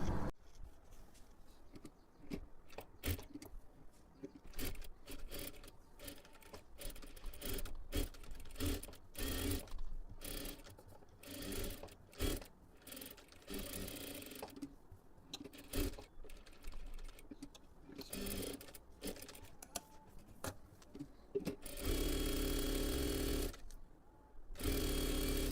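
A sewing machine stitches a full hem along the lower edge of blouse fabric, running in loud, rapid, buzzing bursts with brief stops and restarts throughout, ending in a sustained steady run.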